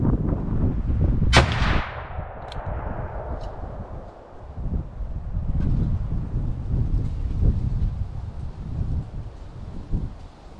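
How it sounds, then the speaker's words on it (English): A .41 Magnum Ruger Blackhawk revolver fires one sharp, loud outdoor shot that echoes and decays for a couple of seconds, followed by fainter cracks and rustling ambience with birds in the background. "Let's put about 2 more rounds through it and see how it goes."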